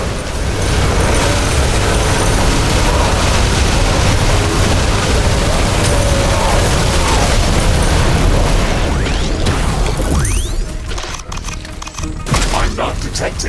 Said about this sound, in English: Wall destroyed.